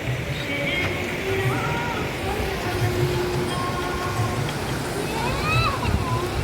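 Forceful, ice-cold river water rushes and gurgles at a riverside beside a temple, a steady loud roar filling the scene, with people talking and a few faint tonal sounds over it.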